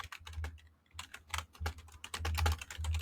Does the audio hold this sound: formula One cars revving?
no